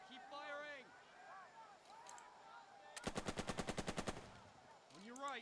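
Rapid automatic gunfire in the Burden of Command war game: a tight burst of about a dozen evenly spaced, sharp shots, loud and close, with fainter voices and whistling game effects before and after.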